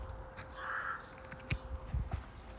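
A crow calls outdoors with a few harsh caws, moderately close, over quiet background noise and with no talking.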